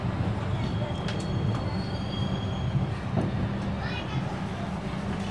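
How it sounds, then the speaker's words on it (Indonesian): A Banyubiru Ekspres economy-class passenger train rumbles steadily close by at a station, with high metallic squeals and hisses rising over the low drone and some faint voices in the background. "ketemu kereta apa ini"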